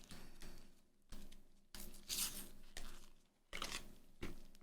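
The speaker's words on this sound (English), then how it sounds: "Taking this fake gold bar out of this" Plastic packaging crinkles and tears as a fake gold bar is pulled free after cutting with scissors, in several short bursts of rustling and ripping, close and fairly quiet.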